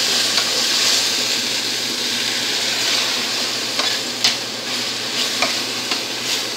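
Tomato paste fries with garlic in a pan, a steady loud sizzle with a few sharp stirring clicks and pops in the second half, no voices.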